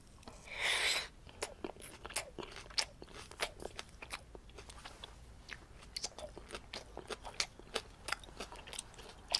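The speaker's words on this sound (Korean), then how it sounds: "요쪽 와사비를 조금 더 찍어서 양파도 부추도 같이 다시 먹어보도록 할게요." Close, wet chewing and crisp crunching as pork trotter jokbal dabbed in wasabi is eaten with raw onion and chives, with irregular bites and chews and one louder burst near the start.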